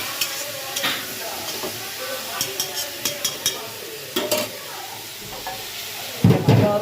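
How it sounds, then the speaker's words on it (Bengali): Food fries in a hot pan on a home kitchen stove, a steady close sizzle with a spoon scraping and stirring at intervals and a louder burst of hissing near the end. "এটাকে আবার ভালো করে ভাজবো।"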